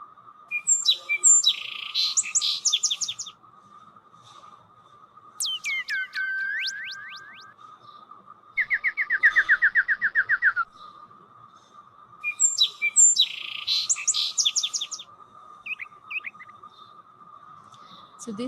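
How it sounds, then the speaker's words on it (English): Birds call in clear bursts: repeated chirping phrases, fast rising whistles and a rapid trill, alternating with pauses over a steady low hum, close and distinct. "Here, I'm going to play a video where you can listen to the birds chirping."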